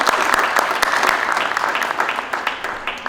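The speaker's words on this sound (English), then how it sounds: "please, a massive round of applause for Raneem" An audience at a squash summit session applauds a player just inducted into the Hall of Fame: dense, sustained clapping from a crowd, fairly close and loud, fading slightly toward the end.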